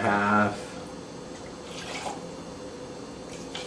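Pisco being poured generously into a cocktail gives a soft, brief trickle of liquid, heard close and quietly under someone talking.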